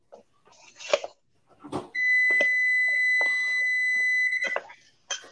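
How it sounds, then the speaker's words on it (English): A built-in oven sounds a long, steady electronic beep from its failing internal probe, lasting a few seconds, set among kitchen clatter and brief handling noises. "We got beeps."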